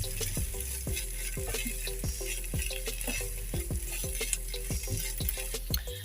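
A spoon stirs a milk and cream mixture for chicken cheese egg rolls, scraping the pan in a steady rhythm of close, distinct strokes over a low sizzle.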